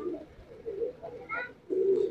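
Pigeons cooing in a breeding loft, a few soft low coos close by, quiet and intermittent, ending in a slightly louder drawn-out coo.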